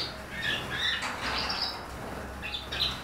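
Several small birds in an aviary chirp and twitter together, a busy cluster of high tweets over a steady background hiss, with occasional wing flutters.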